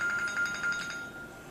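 A phone ringtone chimes in a room as a quiet, repeating electronic pattern of short tones at a moderate distance, fading out after about a second.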